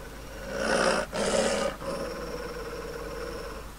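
A dog in The Witcher gives a low, rough growl that swells twice in close succession, breaks off briefly and then trails into a quieter rumbling snarl, close and loud.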